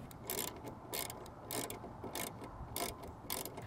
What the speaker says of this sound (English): Now you get to tighten it down.